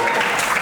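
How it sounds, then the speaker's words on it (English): A short burst of audience clapping at a live comedy show, dense and fairly loud, lasting under a second. "We all get so confused on stage when you clap for a bag coming in."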